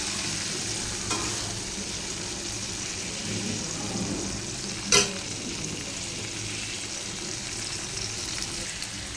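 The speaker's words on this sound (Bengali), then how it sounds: "কিশমিশগুলো একটু ভাজা ভাজা করে নেবো" Raisins frying in a pan, a continuous close sizzle with stirring throughout and one brief sharp clatter near the middle.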